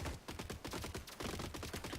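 Robots in the video game Gladiabots fire their guns in rapid bursts, a quick run of sharp, evenly spaced shots at moderate volume with no voices.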